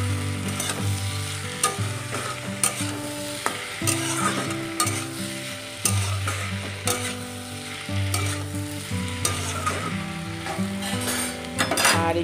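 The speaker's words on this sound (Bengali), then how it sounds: "এখানে আলু আর টমেটো দিয়ে ভাজা করা হইতেছে" Potatoes and tomatoes fry in oil with garlic and green chilli in a pan, a steady close sizzle broken by repeated scraping stirs and light clinks of a utensil against the metal, with no talking.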